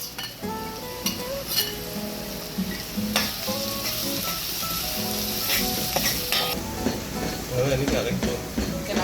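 Grated garlic sizzles and fries in a hot pot for curried goat, a steady hiss with occasional stirring and clinks of utensils against the pot.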